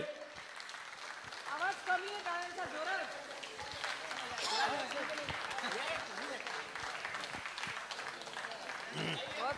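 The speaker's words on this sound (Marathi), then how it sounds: "टाळ्या वाजल्याच पाहिजेत." An audience at a state-level karaoke competition award ceremony gives applause for a named winner, dense clapping running throughout with voices talking over it.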